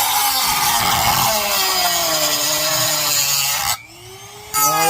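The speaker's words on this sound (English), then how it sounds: "So now I scored myself a little mark. Now all I gotta do is cut it out." Power saw cutting a marked shape out of the soft wood of a junk guitar, a loud continuous buzzing whine with shifting pitch that cuts out briefly near the end, then resumes.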